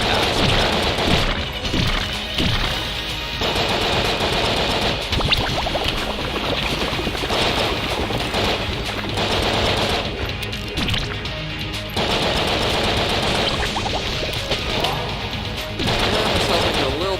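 Rapid bursts of gunfire and crashing impacts during a boss fight in the video game Enter the Gungeon, dense and continuous with short gaps, loud throughout.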